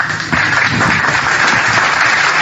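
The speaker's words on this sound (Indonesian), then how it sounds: "dapat tepuk tangan dari Bang Suma" An audience breaks into applause, a dense burst of clapping that starts abruptly and stays loud and steady for a couple of seconds.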